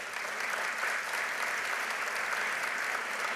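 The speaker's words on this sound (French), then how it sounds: "c'est rare qu'ils se font applaudir, la police" Applause for police officers at a fire department recognition evening rings out as steady, dense clapping from an indoor audience, moderately loud and continuous throughout.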